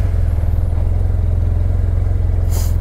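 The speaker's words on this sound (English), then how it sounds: "You start it just like a vehicle." An Arctic Cat Wildcat Trail XT parallel-twin engine runs at a steady, close, throbbing idle, with a brief hiss near the end.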